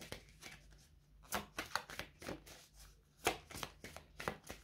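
A deck of tarot cards being cut and drawn for a reading: quiet, close papery slaps and rustles in a few short irregular bursts.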